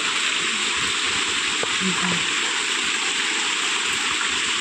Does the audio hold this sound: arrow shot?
no